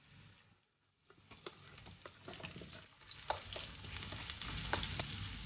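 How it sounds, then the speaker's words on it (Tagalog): Garlic and onion sauté in a pan for pinakbet, a quiet crackling sizzle that swells after a brief lull, with scattered ticks and scrapes of stirring. "umpisahan na natin mag-gisa. Galingin natin ang ating bawang. Ang ating sibuyas."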